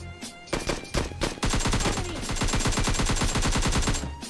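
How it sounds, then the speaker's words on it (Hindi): Rapid bursts of automatic gunfire in the video game PUBG Mobile Lite rattle continuously in a fast, even rhythm, with a few separate shots at the start, loud and close. "ये अंधों की तरह गोली चला रहा था भाई"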